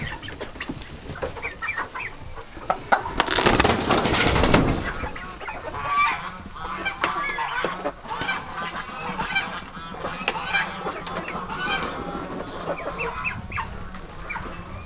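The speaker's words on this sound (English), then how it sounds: "So all the chickens are in the chicken coop." A flock of chickens inside a coop, including an Orloff hen, clucking and squawking continuously up close, with a loud honking, goose-like burst of calls rising over the steady chatter.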